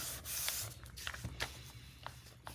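Scissors trimming the edge of a paper envelope for a junk journal, a few short close snips and rustles of paper, quiet and alone.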